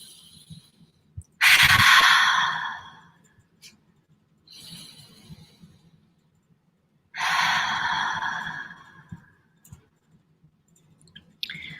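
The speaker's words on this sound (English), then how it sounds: "Take 3 deep breaths in through your nose, reaching the very pit of your stomach, and releasing any stresses or insecurities with every exhale out of your mouth" A person takes slow deep breaths in through the nose and out through the mouth, two long audible rushing exhales with quieter inhales between, close and intimate in a quiet room.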